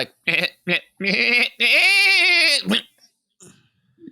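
A human voice imitates a goat falling off a roof: a few short bleating bursts, then a long wavering bleat that cuts off, followed by faint sounds and quiet.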